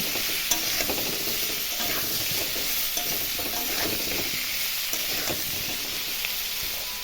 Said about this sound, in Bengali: আলুটা একটু ভাজা হোক।